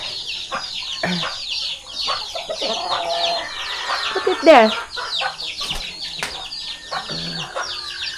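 Many small chickens cluck and peep continuously nearby, with occasional louder squawks and a short spoken remark.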